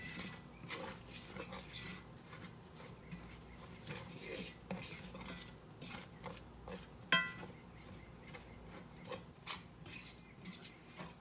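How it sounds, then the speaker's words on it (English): Flour being stirred and cooked down in a pan, with continual quiet scraping and light clinks of a utensil against the pan, faint and close, no talking. "We're going to just give that a mix and let that flour start cooking down."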